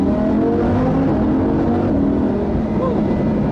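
A Lamborghini Huracan LP610-4 engine accelerates inside a tunnel. The roar is loud, sustained and close, with a steady rising drone and echo throughout, and there are no voices.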